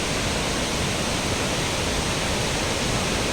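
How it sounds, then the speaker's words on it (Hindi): Dassam Falls waterfall near Ranchi, Jharkhand, water pouring from high up as a loud, continuous broadband roar with no break. "तो ये दशम फॉल है।"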